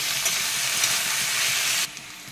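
Bitter gourd slices fry slowly in a pan, giving a loud, steady, close sizzle that drops abruptly to a quieter hiss near the end.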